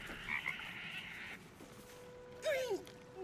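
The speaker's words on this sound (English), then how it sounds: "Frog." A frog croaks in a wet, shallow-water setting, a brief rising and falling call heard once near the end, fairly close, after a stretch of steady high-pitched background noise.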